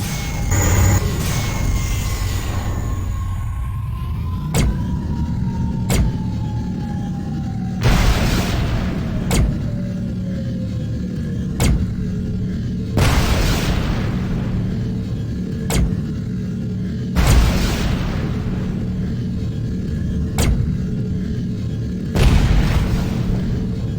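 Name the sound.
mines exploding in Tachyon: The Fringe video game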